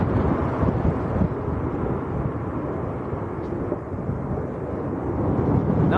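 A plane takes off at Leeds Bradford Airport in windy weather, a broad, heavy roar mixed with gusty wind buffeting on the microphone, sustained and moderately loud throughout.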